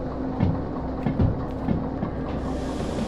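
A long freight train in the railway game Derail Valley rolls steadily into a yard, its wheels giving a continuous low rumble broken by soft clickety-clack thumps over rail joints.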